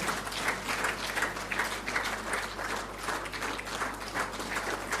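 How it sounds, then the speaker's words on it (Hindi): Audience applause at a national photography awards ceremony in India: continuous, fairly loud clapping from many hands, steady throughout, over a faint low hum from the hall. "जोरदार तालियां"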